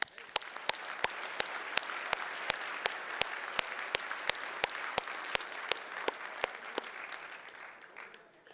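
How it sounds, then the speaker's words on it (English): A dinner audience at the 2013 SIA Award Dinner claps for John and Ajit, a steady wash of many hands in a large room, with a few sharper close claps standing out before the applause thins at the end. "Let us give both John and Ajit a round of applause."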